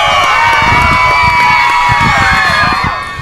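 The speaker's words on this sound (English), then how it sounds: "Let's have a round of applause for them" Young TK through third grade winners at a school awards ceremony draw a loud, sustained burst of children cheering, whooping and shrieking close by, tapering off toward the end.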